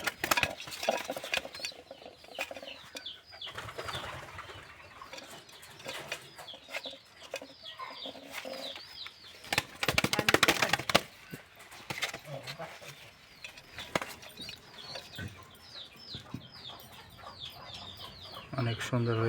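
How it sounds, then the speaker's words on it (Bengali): Twenty-two-day-old Maxi racing pigeon chicks give a busy, continuous mix of chirping calls with scattered louder bursts and a few wing flutters, heard close up throughout. "মাক্সি কবুতরের বাচ্চা"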